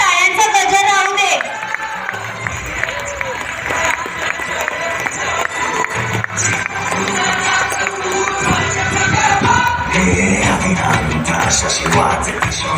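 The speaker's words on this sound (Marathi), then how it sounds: "शिवाजी महाराजांबद्दल निष्ठा असेल तर टाळ्यांचा गजर राहू दे." A crowd claps and cheers at an event honoring Shivaji Maharaj, sustained loud applause mixed with shouting voices and music.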